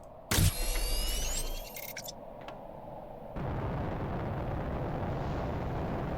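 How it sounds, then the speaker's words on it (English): Rocket launch in the survival game Planet Crafter: a sudden loud blast and roar opening into a descending whistle, then fading into a steady rumbling wash of noise that swells again near the end, with no talking. "Every time we launch a rocket, we impact this planet with many meteors."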